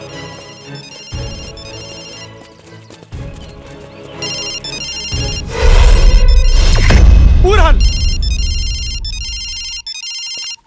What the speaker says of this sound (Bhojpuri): यहाँ से घंटी का आवाज आवता।